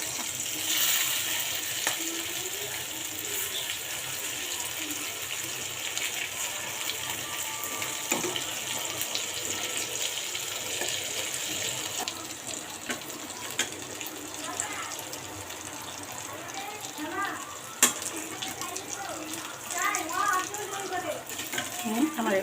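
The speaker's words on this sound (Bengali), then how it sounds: "আমার এগুলো ভাজা হয়ে গেছে" Lentil fritters (bora) frying in hot oil give a steady, close sizzle and hiss that runs unbroken throughout, with a few soft clicks and stirring noises near the end.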